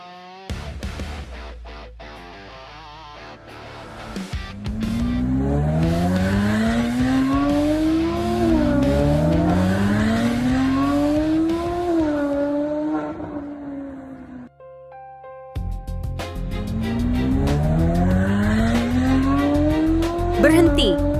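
An Aston Martin engine revs hard with rising and falling whines as tires squeal, loud and close, broken by a brief lull before the revving roars back.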